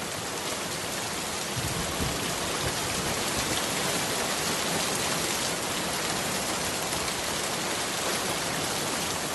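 Heavy rain pours onto a car at night, creating a dense, unbroken roar of rainfall that sounds steady and close throughout, with no voices.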